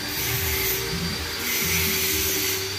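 Angle grinder working a weld on an Isuzu Elf truck engine, a steady close whining grind with rough rubbing texture that swells and eases slightly throughout, no voices.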